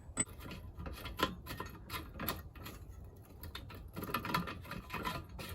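A gas burner is threaded into place on a forge, giving close metallic scraping and clicking with small rubbing taps in irregular bursts and no talking.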